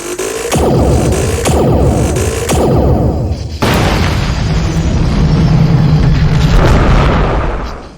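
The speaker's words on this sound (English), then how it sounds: "Explosions off to the right drew Moonsong's attention as the New Republic's first wave clashed with Imperial forces" Space-battle explosions from a Star Wars audio drama: three heavy booms in quick succession, then a bigger blast that swells into a long, loud rumbling roar.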